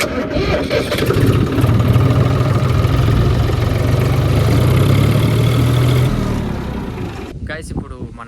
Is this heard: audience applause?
no